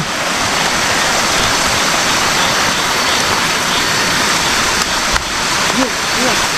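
River water rushing through a forest, a loud steady broadband roar throughout with no clear breaks.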